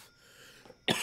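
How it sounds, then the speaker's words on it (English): A single sharp cough bursts out near the end, loud and close, after a stretch of quiet room tone. "My cough will not go away."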